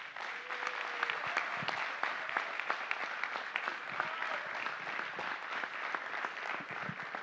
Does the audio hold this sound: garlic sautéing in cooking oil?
no